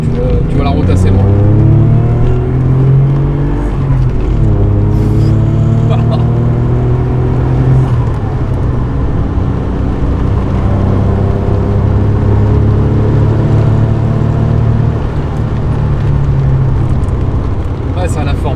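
A 2nd-generation Maserati Ghibli II, an Italian sports coupe roughly 28 years old, cruises along an open road with a steady engine drone and shifting tone as it changes gear, while people talk throughout.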